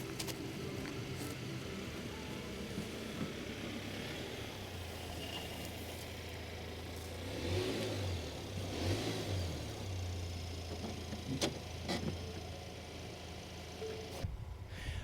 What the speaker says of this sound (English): I'm gonna pull the truck across the ditch here